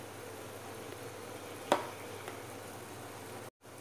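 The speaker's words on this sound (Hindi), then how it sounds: "हम 2 मिनट इस मसाले को भी भून लेंगे" Spices (turmeric, red chili powder, coriander powder) roast in an onion-tomato masala for a drumstick, peas and potato curry, giving a steady close sizzle with one brief clink of a stirring spoon midway.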